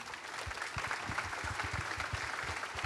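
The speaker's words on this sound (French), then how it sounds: "Oui, on peut les applaudir." An audience applauds at a gardening show awards ceremony, a steady patter of scattered hand claps heard from a moderate distance, fairly faint and continuous.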